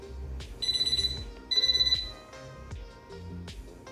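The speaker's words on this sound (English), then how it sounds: "a variety of different alarms and volumes for your alarm purposes" An Easyera 10-inch RGB digital wall clock sounds its alarm in two short bursts of rapid, high electronic beeping, close and clear, with faint room noise between.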